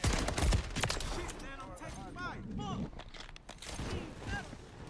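Shotguns blasting in MW3 gameplay, several loud sharp reports in quick succession mixed with other game effects, while a voice talks throughout.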